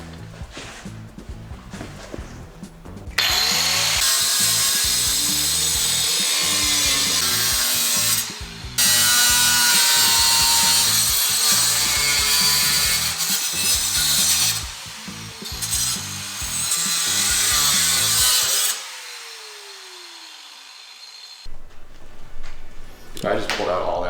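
A power tool fitted with a cutting wheel screams loudly through metal in a shop stripped of its wiring by copper thieves, in long harsh bursts with pauses between, while rattling and handling noises carry on in the gaps.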